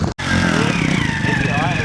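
A trials motorcycle engine hums and revs at a club trial on the clubman course, a close buzzing motor under a commentator's voice speaking over a public address.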